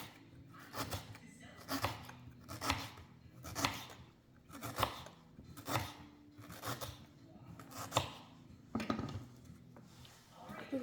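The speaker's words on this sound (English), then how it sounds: "And then I'm gonna chop it." Kitchen knife chopping peeled fruit on a board for a smoothie, about a dozen crisp, fairly evenly spaced chops close by, with faint room noise between strikes.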